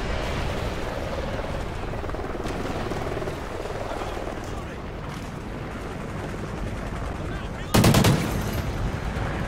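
Gunfire and explosions from a Drop Zone match in Call of Duty: Ghosts fill a dense, continuous wash of game noise, with one loud, sharp burst near the end standing out above the mix.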